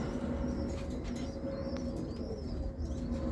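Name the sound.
roller pigeons cooing in a loft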